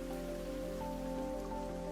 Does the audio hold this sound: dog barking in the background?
no